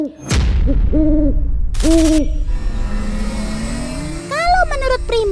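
An owl gives two clear, resonant hoots about a second apart, followed by a rising engine-like whine and a cluster of quick wavering calls, loud and close throughout.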